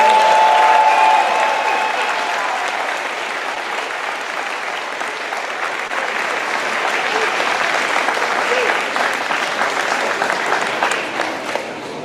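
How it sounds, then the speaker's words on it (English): Audience applause at a 2023 awards ceremony, honoring straight A students: a broad, steady wash of clapping from a large crowd, sustained for the whole stretch at even loudness. "I think our straight A students need another round of applause."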